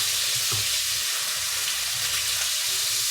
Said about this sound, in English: Give our asparagus a bit of a toss.